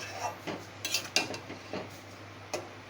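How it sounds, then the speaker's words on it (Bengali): Ingredients for Kashmiri sholka being mixed in a pot, a series of light clinks and scrapes of a spoon against metal in an irregular rhythm, fairly quiet and close, with no talking. "এবার এটা ভালো করে মিশিয়ে নিয়ে ঢাকা দিয়ে সেদ্ধ হতে দেব।"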